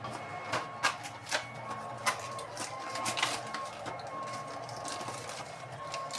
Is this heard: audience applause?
no